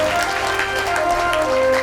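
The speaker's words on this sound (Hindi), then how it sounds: "उनके लिए भी जोरदार तालियां।" Steady clapping from a crowd gathered at a Shiv Mahapuran religious discourse in a temple, a dense continuous patter throughout, with a sustained musical tone droning underneath.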